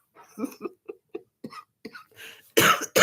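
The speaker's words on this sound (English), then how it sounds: "I have a cough" Several short bursts of soft vocal sound lead into two loud, harsh coughs close to the microphone at the end.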